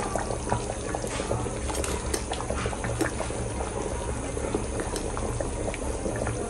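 Mustard paste poured into a boiling fish curry in a home kitchen, a continuous bubbling and pouring wash of liquid, close and steady with small splashes throughout.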